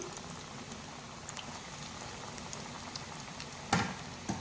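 Potato and chicken kebabs fry in a pan over a low flame, giving a steady soft sizzle and bubbling patter with a couple of brief sharper clicks near the end.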